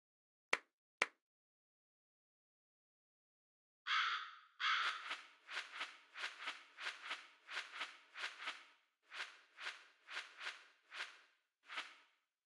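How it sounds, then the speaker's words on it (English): A Kasugai crow in the video game Demon Slayer: The Hinokami Chronicles caws a quick series of a dozen or so harsh, close calls in an uneven rhythm, preceded by two sharp clicks and a short silence. No talk. "you must each be assigned your own Kasugai Crow"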